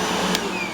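A Eureka Boss Smartvac 4870 upright vacuum cleaner running at home, a loud steady motor whine and airflow hum with one brief sharp burst partway through.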